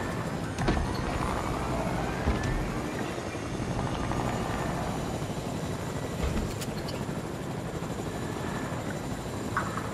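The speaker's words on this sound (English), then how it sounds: "Oh, I know he's playing the chopper." A video game helicopter flies steadily close by, its rotor chop and engine drone filling the whole stretch without a break while no one speaks.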